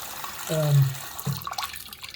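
Water runs from a tap as small faucet aerator parts are rinsed: a short, close splash that cuts off, followed by faint drips.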